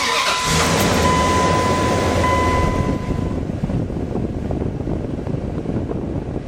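A car engine catches after the key is turned, then runs steadily with a broad, loud rumbling roar and a thin whine early on, heard close with no talking.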